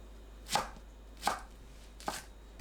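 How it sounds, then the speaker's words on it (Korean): Three crisp knife chops on a cutting board, evenly spaced about three-quarters of a second apart, slicing enoki mushrooms or vegetables into 1 cm lengths; close, quiet and isolated with no talk. "1cm 길이로 썰어줍니다."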